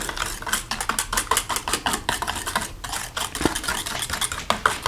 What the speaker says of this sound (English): Just mix it around, get everything dissolved.